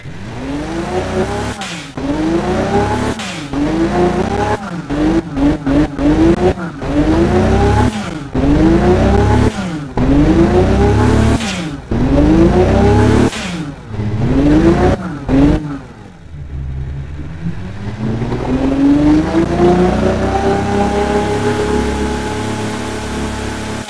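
A custom-built truck engine with race headers in BeamNG.drive revs hard again and again in rapid rising bursts, then settles into one long climbing acceleration, loud and close.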